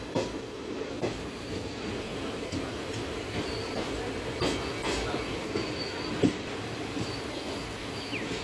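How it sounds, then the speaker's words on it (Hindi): Passenger train on the Shri Ganganagar–Bathinda line pulling into Fatuhi railway station, a steady rumble of wagons and wheels on rail running throughout, with faint squeals and clatter rising briefly over the continuous noise. "हम पहुंच चुके हैं फतुही रेलवे स्टेशन पर, और यहां पर हमारी ट्रेन का सिर्फ 1 मिनट का स्टॉप है"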